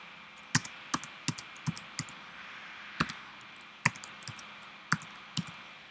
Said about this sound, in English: type in your account name, almost did my Gmail account there. Type in this ASCII code.